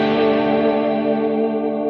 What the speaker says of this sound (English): the sus4 right there sounds really nice too